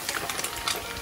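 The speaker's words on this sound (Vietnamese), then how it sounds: "Đây đang chiên đậu hũ." Tofu fries in hot oil outdoors, giving a continuous close crackling sizzle with small spattering pops.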